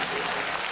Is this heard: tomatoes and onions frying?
no